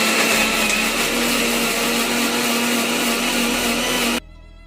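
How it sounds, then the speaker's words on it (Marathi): A kitchen mixer grinder whirs steadily at high speed, grinding a spice paste with raw tomato for sev bhaji, a loud continuous motor drone that cuts off abruptly near the end. "आता हे वाटण आपण मिक्सर मधून काढून घेऊ।"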